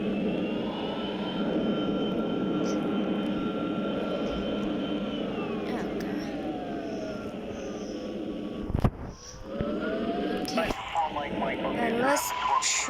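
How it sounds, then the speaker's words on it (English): An MD-80 jet in the X-Plane 10 mobile flight simulator lands and engages reverse thrust, a loud steady engine roar whose whine falls away midway, broken by a sharp thump, then rising again as the thrust builds. "Okay, brakes, reverse thrust."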